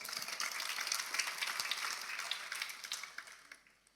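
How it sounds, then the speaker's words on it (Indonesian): A church congregation claps during a sermon. The applause is brisk and crowded at first, then thins and fades away toward the end, with no voices over it. "Anda boleh tepuk tangan ini."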